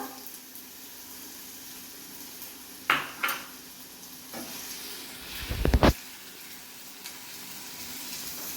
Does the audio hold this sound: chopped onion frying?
yes